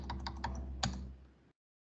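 Quick, close clatter of a computer keyboard being typed on, a handful of key clicks that cut off abruptly after about a second and a half.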